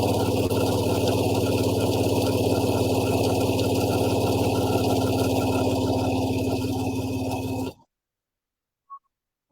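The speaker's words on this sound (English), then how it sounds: "I'm just going to sew this down." A sewing machine stitching a rag quilt, a loud steady motor hum with fast even needle rhythm running for several seconds before stopping abruptly into silence.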